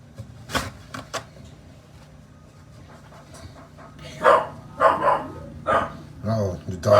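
An excited dog pants and lets out several sharp barks and yips, close and loud in a home, with a person talking nearby.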